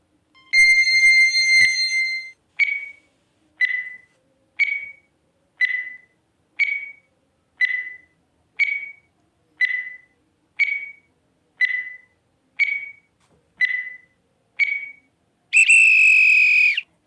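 A quiz countdown timer plays a steady run of fourteen identical short beeping tones about one second apart, framed by longer, louder tones at the start and at the end, with no talking over it.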